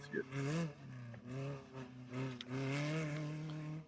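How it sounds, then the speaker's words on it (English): Class 10 off-road race car at NORRA Baja qualifying in Ensenada: a nearby engine revs in repeated pulls, rising and dropping in pitch between manual gear shifts, with several distinct rising bursts. "You can hear the difference in the RPMs of the engine as they're manually shifting these cars."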